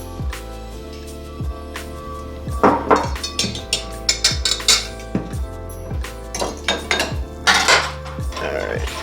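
Grated carrots being folded into muffin batter in a bowl, with irregular close knocks and scrapes of a utensil against the bowl, alone and fairly loud.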